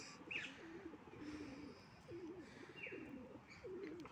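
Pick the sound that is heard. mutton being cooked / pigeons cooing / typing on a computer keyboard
pigeons cooing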